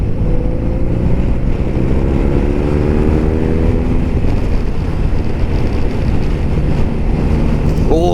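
A motorcycle being ridden on a road, its engine pitch climbing through the gears in the first few seconds under constant heavy wind rush, then settling into a steady drone.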